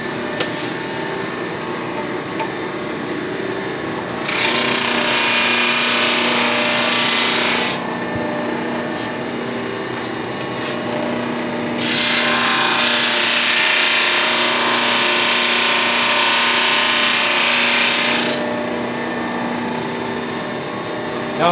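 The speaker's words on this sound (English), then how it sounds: "It does help if you turn the sander on." A power sander works on wood in two bursts of loud, hissing, abrasive whirring, the first about three seconds and the second about six, over a steady background hum.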